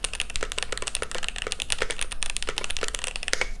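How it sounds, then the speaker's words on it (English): Steady, fast typing on a wireless mechanical keyboard, crisp individual clacks in a continuous rhythm, close up with no talking. "The sound of this keyboard sounds great."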